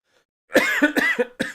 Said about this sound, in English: couldn't get through without a cough